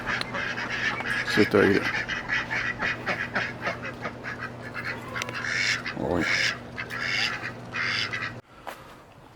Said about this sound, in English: Feed it to the ducks.